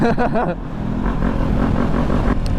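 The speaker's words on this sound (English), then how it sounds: "I've been learning like little baby clutch ups." A Ninja 400 motorcycle engine revs up briefly during a low-speed clutch-up, a close, loud, rough motor drone that swells after a short dip and holds steady.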